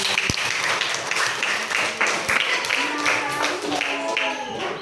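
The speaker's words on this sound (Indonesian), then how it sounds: "Tepuk tangan" Third-grade pupils clap for a classmate in a classroom, a scattered, uneven patter of small hands with children's voices and a teacher talking over it.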